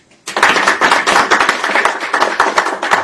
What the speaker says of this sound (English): you definitely deserve a round of applause